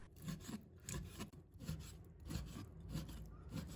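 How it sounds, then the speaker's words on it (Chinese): A knife strikes a cutting board in a steady, rapid rhythm, close by, thinly slicing lean pork with soft scraping between strokes. "把它切成薄片，片我们要切薄一点，不要切得太厚了"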